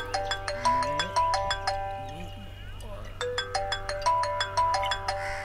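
A phone ringtone plays a repeating melodic pattern of bright tones, pausing briefly mid-way before resuming, with a voice speaking over it now and then.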